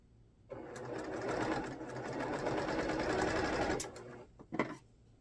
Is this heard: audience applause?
no